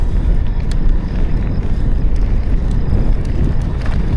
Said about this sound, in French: De toute façon il y a du vent de partout.